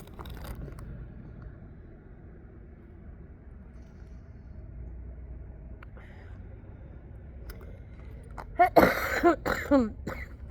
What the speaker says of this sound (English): it hurts so bad to cough